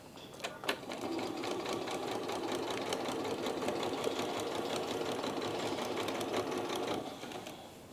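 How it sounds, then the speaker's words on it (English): A sewing machine runs a long basting stitch down the centre front seam of a pair of trousers, set to about a 5 mm stitch length, whirring steadily and close for about six seconds before slowing to a stop. "I'm going to stitch down that centre front seam with a very long stitch"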